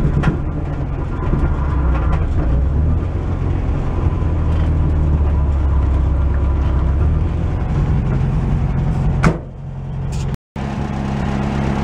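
Barn-find VW bus engine idling close by in a garage, a steady low rumbling drone that holds for about nine seconds before dropping off, followed by a brief quieter stretch and a clunk.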